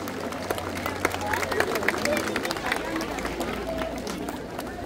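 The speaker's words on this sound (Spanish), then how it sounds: "pido un caluroso y fuerte aplauso" A crowd at an outdoor costume contest in Villa Alta on the third Friday of Lent applauds a band, with steady scattered clapping and background crowd murmur over a low hum.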